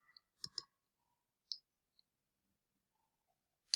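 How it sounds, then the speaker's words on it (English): A computer mouse clicks a few times, sharp and close, in isolated single and paired taps separated by quiet gaps. "So I click there, and then I give feedback."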